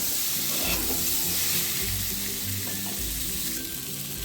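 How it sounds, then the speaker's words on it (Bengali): Potatoes dusted with a little salt and turmeric fry in oil in a kadai while a crab curry is cooked, giving a steady close sizzle with occasional stirring scrapes throughout. "আলুগুলো ভাজা হয়ে গেলে একটু পাশে এবারে তুলে নেব"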